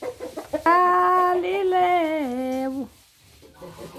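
A rooster crows once, close and loud, in a long drawn-out call that drops at the end; someone speaks briefly before and after.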